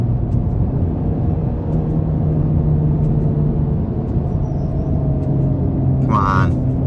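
Inside a 2023 Kia Sorento EX during downshifts, a steady low engine and road rumble drones, and the engine note rises gradually as it pulls.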